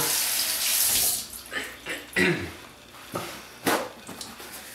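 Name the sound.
running tap water rinsing fingers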